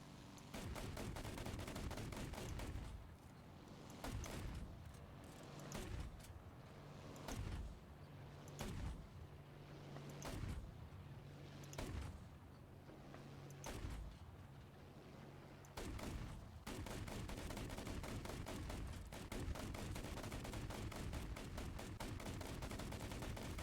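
Anti-aircraft guns firing in War Thunder, with a continuous roar of rapid automatic fire. Repeated sharp bursts and short pauses break it through the middle, then it returns to sustained heavy shooting, loud and close.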